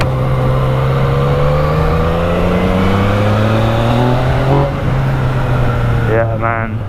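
A 2016 Yamaha FZ-09 (MT-09) motorcycle engine pulls hard under acceleration while being ridden, its loud rising drone climbing in pitch through the gears, with wind rush throughout.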